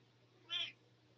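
A cat gives a single short meow, close and fairly clear against a quiet indoor background with a low steady hum.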